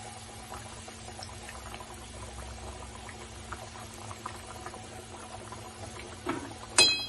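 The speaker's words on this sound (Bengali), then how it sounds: "মাছগুলো দিয়ে একটু ভালো করে ফুটতে দেব" Rui fish kalia curry with curd bubbling in a pan, a soft steady simmer with faint popping and patter, close and quiet, ending in a brief louder clatter.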